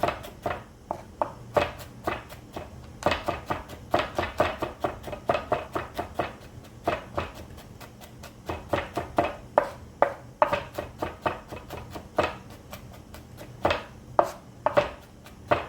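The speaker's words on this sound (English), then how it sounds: "So I'm just chopping mine." Knife chopping garlic on a cutting board in a kitchen, a long run of quick, sharp, uneven taps close by, with brief pauses between bursts and no talking.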